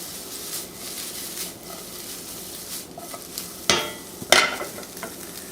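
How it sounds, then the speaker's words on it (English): Corned beef sautéing in a pan, a moderate crackling sizzle underneath, broken by a couple of louder scraping stirs of the spatula toward the end. "Get it started sauteing."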